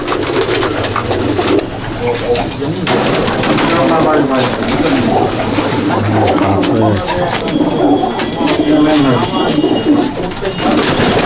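A pigeon in a loft in Jangipur, Murshidabad, coos repeatedly in close, rolling throaty calls while someone talks over it.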